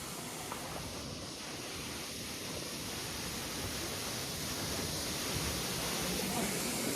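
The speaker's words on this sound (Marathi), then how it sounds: "असं इकडनं झऱ्याचं पाणी खाली जातं" Stream water flowing down at Bandardhara waterfall during the monsoon, a dense, steady broadband rush that stays even and slowly swells slightly, with no voices over it.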